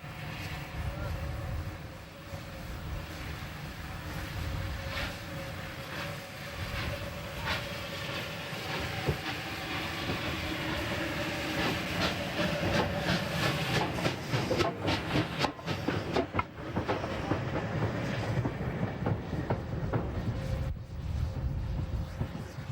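West Country class steam locomotive City of Wells, just in from Leeds with the Pennine Limited, hisses steam and rumbles with clanking wheels and intermittent sharp clicks, a continuous moderately loud mix that grows busier toward the end.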